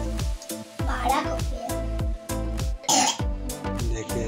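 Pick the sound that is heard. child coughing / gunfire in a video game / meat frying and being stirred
child coughing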